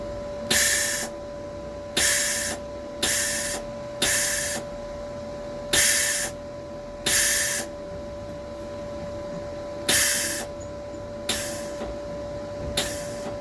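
Repeated short bursts of welder shielding gas hissing out of the torch while working on a Reliant Regal Supervan 3 chassis, about ten evenly spaced loud hisses, each cutting off abruptly, close over a steady electrical hum.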